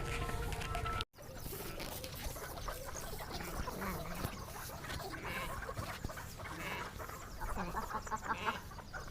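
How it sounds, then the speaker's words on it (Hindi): Chickens cluck and squawk continuously in a noisy cattle farm yard, several birds calling over one another. "ये देखें माशाल्लाह मुर्गियाँ आ गई जी, सारी मुर्गियाँ भाई ने रखे हुए"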